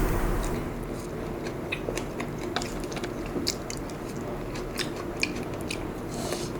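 Eating rabokki and cheese gimbap: irregular soft chewing, biting and utensil clicks up close, with occasional sharper taps over a low background murmur.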